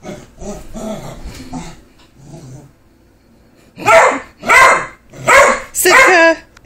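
A dog barks and growls at a beer bottle. Low growls and softer yips come first, then four loud, close barks in an even rhythm.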